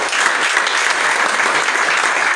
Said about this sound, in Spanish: Dale un aplauso fuerte al Señor nuestro Dios.